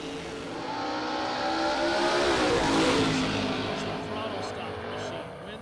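A throttle stop drag racing car launches down the strip, its engine roaring louder as it passes, peaking mid-way and then fading into the distance, with an announcer talking over it.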